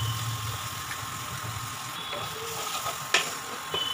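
An egg for chicken egg chow sizzles faintly in a pan of frying garlic and green chilli, a steady low crackle with a brief clatter near the end.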